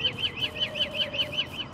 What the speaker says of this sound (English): Oh crap, that bird was loud.